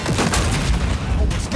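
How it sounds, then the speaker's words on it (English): Gunfire in the video game Battlefield Hardline at a trade-fair demo, a loud dense barrage of booming shots mixed with voices and crowd noise. "Start shooting!"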